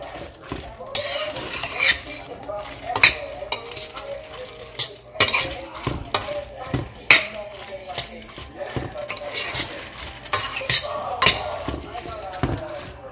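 Linguine with fennel in sherry wine is tossed in a pan, giving repeated irregular metallic clinks and scrapes close by over a light sizzle.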